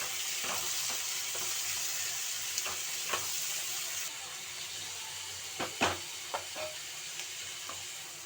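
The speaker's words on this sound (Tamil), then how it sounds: "நல்லா வதக்கிக்கலாம்." Sliced onions and a tomato sauté in hot oil in a pan, giving a continuous soft sizzle broken by several sharp clinks and scrapes of stirring.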